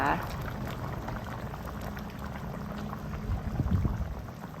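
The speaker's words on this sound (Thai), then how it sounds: "เสร็จแล้วเราก็จะมาใส่มะเขือค่ะ เทลงไปได้เลยนะคะ" Eggplant goes into a simmering Thai chicken curry, with a steady bubbling, liquid churn close by and a slight splash and slosh as the pieces drop in near the end.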